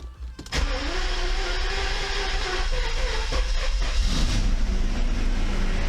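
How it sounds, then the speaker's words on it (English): A repaired Mercedes S600 V12 engine cranks and catches at about half a second, then settles into a loud, steady idle running on all twelve cylinders, with faint mechanical whirs over the rumble. "Let's start the car."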